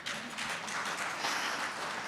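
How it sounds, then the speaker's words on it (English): A summit audience breaks into brief applause, many hands clapping in a dense, even patter that holds steady for a couple of seconds at moderate volume. "Yep, you can clap for that."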